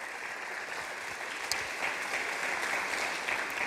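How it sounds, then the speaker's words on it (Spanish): A church congregation applauds during a Spanish-language sermon, producing steady, moderately loud clapping that fills the room evenly for several seconds, with a few sharper claps standing out. "Dale un aplauso al Señor."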